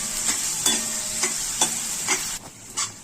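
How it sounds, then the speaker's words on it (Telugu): Onions and green chillies fry in a pan for fish kurma, with a steady close sizzle punctuated by regular scraping stir strokes roughly every half second, no voices. "ఈ ఉల్లిపాయలు, పచ్చిమిరపకాయలు పచ్చి వాసన పోయేంత వరకు వేయించుకుందాము."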